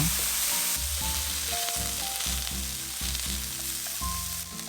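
Garlic, onion and sugar snap peas sizzle in a hot pan, a loud continuous crackling hiss with occasional clinks of stirring close by.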